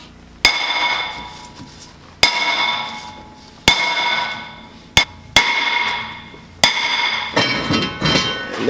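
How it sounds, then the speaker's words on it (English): Six heavy hammer blows on a seized brake rotor of a Nissan 350Z, each a loud ringing metal clang that lingers and decays, spaced unevenly a second or two apart. "So what you're going to do is just take a hammer,"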